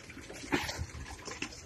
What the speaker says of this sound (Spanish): Estamos aquí llenando los tanques en Hot Spring.